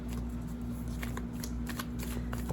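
Tarot cards riffled and shuffled continuously by hand, a steady papery flutter with soft snaps close by, under a constant low hum.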